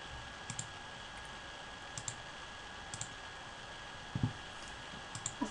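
Text is entered into a Prezi presentation with faint, sparse clicks of a computer mouse and keyboard, single and paired taps spread across a quiet steady background hiss, with no voices.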